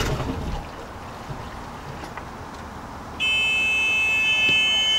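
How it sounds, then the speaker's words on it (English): On a narrowboat, a steady electronic warning tone switches on partway through and sounds continuously to signal that the ignition is still engaged after the stop button is pulled, heard over a low hum of background noise. "you just pull this button and you will hear the audible tone over here to tell you you still have ignition"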